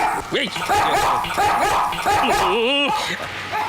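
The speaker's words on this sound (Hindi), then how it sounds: "मुझ पर भौंक रहा है" A dog barks and yelps in short bursts, with a whimpering whine near the end, fairly loud and close in a Hindi film scene, with voices around it.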